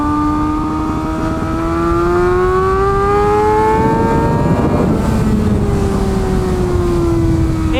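Kawasaki ZX6R 600 sport motorcycle ridden hard on a race track, its engine note climbing and shifting pitch as it accelerates through gears, loud and continuous with wind noise.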